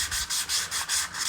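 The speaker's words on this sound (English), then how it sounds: "This sanding in these corners and that, it's kind of a real bugger, hey?" A sanding block is rubbed by hand in steady back-and-forth strokes, about eight rhythmic rasping passes, into the corners of body panels during a 1952 GMC build; no one speaks.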